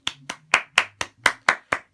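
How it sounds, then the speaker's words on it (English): Eight slow, deliberate hand claps, sharp and close, spaced evenly about a quarter second apart with silence between them and no voices. "Round of applause for the Philadelphia Eagles"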